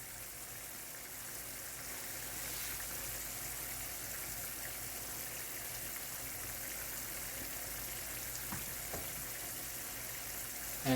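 Dal makhani gravy cooks in a pan with a faint, steady sizzle and bubbling that runs for about ten seconds, quiet and unbroken, with a brief clatter at the end.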